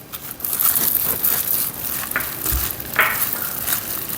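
Seasoned chwinamul greens tossed by hand with perilla oil, a close, continuous soft squishing and crinkling with a few sharper wet smacks, heard alone without talk.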